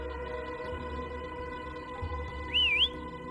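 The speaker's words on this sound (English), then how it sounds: "Try whistling." A short rising and falling whistle calls a creature in the video game Wuthering Waves, heard clearly over a steady low game hum and ambient tones.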